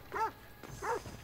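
A dog in a video game barks twice, about half a second apart, each a short clear yelp-like bark, close and moderately loud with no talk over it.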